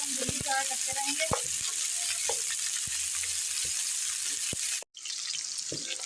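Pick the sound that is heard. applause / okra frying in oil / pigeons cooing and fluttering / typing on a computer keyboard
okra frying in oil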